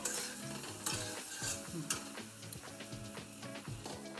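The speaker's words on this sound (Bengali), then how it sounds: "এই ভাজাটা প্রায় হয়ে আসছে, এখন আর একটু ভেজে নেব।" Food frying in a pan with a soft sizzle under repeated scraping and stirring strokes of a utensil, close and fairly quiet.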